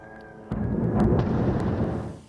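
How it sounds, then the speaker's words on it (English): Explosions in northern Gaza, heard as a single heavy, broad rumbling blast that bursts in abruptly and rolls on for about two seconds, fairly loud and alone, with no talking. "Explosions continued to rock Gaza's north."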